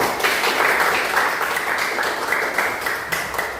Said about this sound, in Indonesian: Oke, lagi kan tepuk tangan untuk Kak Sona